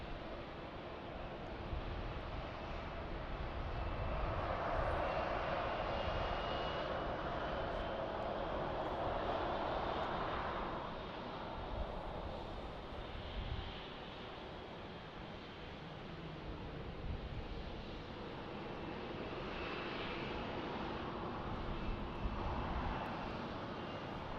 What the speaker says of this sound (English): So we get a Dassault Falcon here.